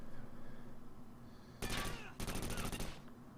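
Enemy gunfire in the tactical shooter Takedown: Red Sabre comes as two sharp bursts of rapid shots, close and loud, over a low ambient game hum.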